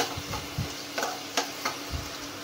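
Onions sauté in a pan with a low, steady sizzle. A spatula scrapes and stirs at a slow, uneven rhythm, close and fairly quiet.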